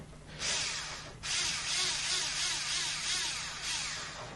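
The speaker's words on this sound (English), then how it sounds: "Just the electric drill in." An electric drill driving screws into a quadcopter frame whirs in short bursts, briefly stopping and then running again steadily, close to the listener.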